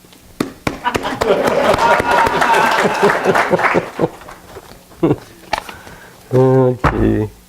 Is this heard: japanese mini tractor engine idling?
no